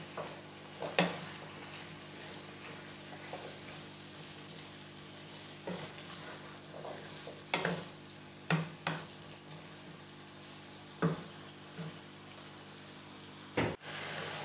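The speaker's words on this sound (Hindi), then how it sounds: "आलूओं को डाल के हम इसको अच्छी तरह से मिक्स करेंगे और भुनेंगे" Potatoes frying in a pan for a mixed vegetable dish, a soft steady sizzle broken by sharp scraping knocks of a spoon stirring them at irregular intervals, no voices.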